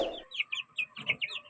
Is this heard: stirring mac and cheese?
no